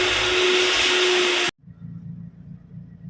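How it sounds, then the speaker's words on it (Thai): A vacuum cleaner at a car wash station roars loudly and steadily with a faint tonal whine, then cuts off abruptly halfway through, leaving only a low background rumble. "ก็จะล้างสีดูดฝุ่นธรรมดานั่นแหละนะครับ"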